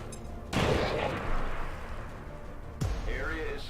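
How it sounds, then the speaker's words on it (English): A grenade goes off in XCOM 2, a sudden loud blast with a rumbling tail, followed a couple of seconds later by a second sharp burst, with game sound effects around it. "Let's grenade and then get it over with. That should hit him, at least."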